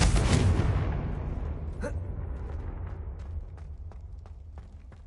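A Confringo blasting spell in Hogwarts Legacy bursts in a loud explosion at the start, then its roar fades slowly into a rumbling tail broken by a few faint ticks.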